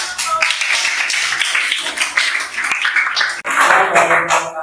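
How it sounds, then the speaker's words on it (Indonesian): Students in a seventh-grade economics class clap for a group that has just finished presenting, uneven bursts of clapping and taps with a louder flurry near the end. "Beri tepuk tangan."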